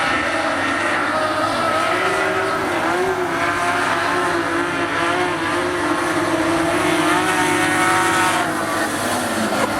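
Modified race cars roar around the Rockhampton Speedway oval in a steady, loud engine drone that stays constant across the whole stretch, with several cars blending together at close range.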